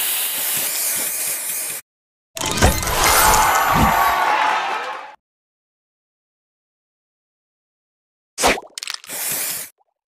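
Loud bursts of spray-like hissing and fizzing booster effects in the mobile game Match Masters, separated by abrupt silences, with a few short sharp pops near the end.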